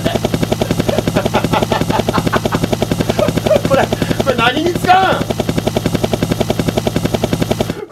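A helicopter sound effect plays from a keyboard sound module: a loud, fast, steady rotor thumping that runs throughout, with a brief voice breaking in around the middle.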